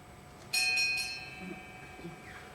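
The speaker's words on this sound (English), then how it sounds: "The bell invites me." A single bell strike rings out during a stage performance of Macbeth, a bright metallic tone with a long humming decay fading over a couple of seconds, alone without voices.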